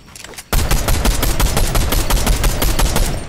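Rapid automatic gunfire in Fortnite erupts after a brief quieter moment, a loud, sustained rattle of closely spaced shots that continues to the end.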